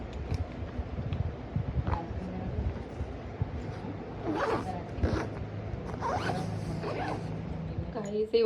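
A luggage zipper is drawn in several quick, close pulls while packing a bag for a train journey to Hyderabad, with a person talking under the steady handling noise.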